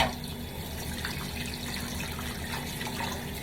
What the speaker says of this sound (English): Wash my brush really, really good.